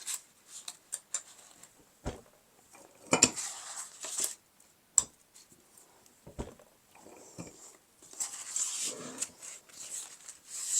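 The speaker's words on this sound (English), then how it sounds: "so it's time to set the rivets in place" Metal rivets set into a fabric sling in a home sewing space, scattered close clicks, taps and knocks separated by quiet gaps, fairly faint, no voices.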